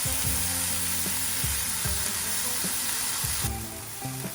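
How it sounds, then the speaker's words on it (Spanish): Bacon and diced tomato sizzle steadily in a frying pan, a constant close hiss with stirring knocks and scrapes recurring through it. "vamos a agregar, si lo tienes, el bacon, para que vaya soltando la grasa allí."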